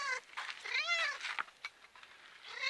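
A cat meows repeatedly up close, a run of several drawn-out, wavering cries of varying pitch with short gaps between them, fairly quiet and heard alone.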